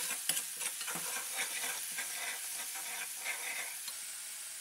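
Blended onion frying with browned garlic in a pan for Indian chicken curry, a close, continuous sizzle with repeated stirring scrapes.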